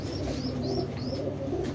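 A pigeon coos in a soft, steady rhythm over a constant low background hum inside an enclosed loft, with faint high chirps repeating above it.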